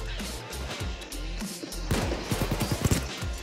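Gunfire in the video game Payday 2 bursts out as a rapid string of sharp shots in the second half, over a steady background din with faint voices.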